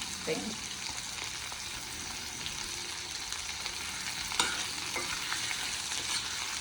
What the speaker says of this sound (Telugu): కొంచెం ఎర్రగానే అల్లం వెల్లిగడ్డ పేస్ట్ వేస్తాను.